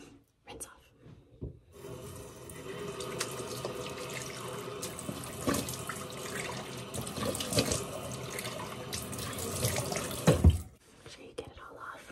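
Water pours steadily from a bathroom tap for about nine seconds as a face is rinsed, a close hissing flow with splashes that stops abruptly near the end, with faint whispering.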